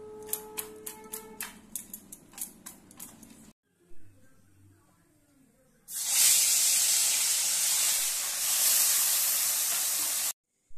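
Parshe fish coated in salt and turmeric hit hot oil with a loud, sustained hissing sizzle that runs steadily for several seconds. Clicks and clatter of handling the pan come first, then a brief quiet.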